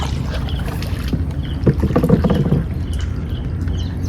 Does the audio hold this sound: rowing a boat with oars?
yes